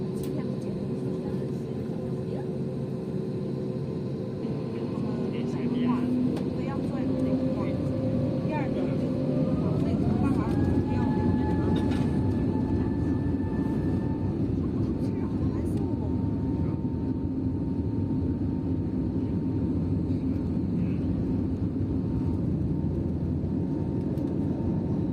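Loud, steady jet engine roar builds as an Airbus airliner powers up for takeoff, with rising whines sweeping upward beneath a constant cabin rumble.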